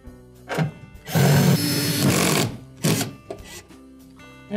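Screws being driven back into a refrigerator panel during an Amana defrost bimetal repair, with a long whirring burst from a powered driver between shorter buzzes, loud and close.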